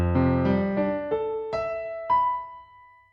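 Single piano notes climb in a steady sequence of about seven evenly spaced strikes, each sustaining and overlapping the last, heard close and alone without any voice.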